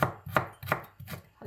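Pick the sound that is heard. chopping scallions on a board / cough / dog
chopping scallions on a board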